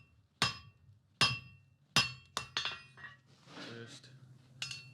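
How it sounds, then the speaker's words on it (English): Hammer blows on hot metal drawing a bar down to a square taper, about six sharp ringing strikes in an uneven rhythm with short pauses and a softer rustle between them, close up. "Now I'll work on this section, drawing down a nice square taper."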